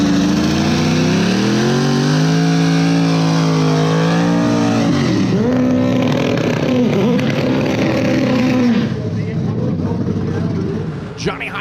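A 2015 Chevrolet COPO Camaro drag car at the World Cup Finals drag racing event, its engine revving hard with rising pitch sweeps and gear changes, loud and close, then fading away, with a voice talking over it.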